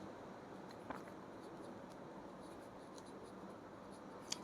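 A pen writing during a class 6 maths lesson, soft continuous scratching strokes close by, faint and steady with a couple of light taps, no talking over it.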